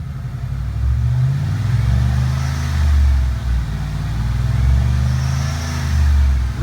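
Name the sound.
2001 Lincoln Continental engine revving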